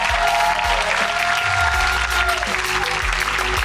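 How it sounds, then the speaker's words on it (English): Crowd applause at an awards presentation, a steady roar of clapping with sustained music tones running underneath, moderately loud and continuous throughout. "I didn't think that was loud enough, so bigger applause."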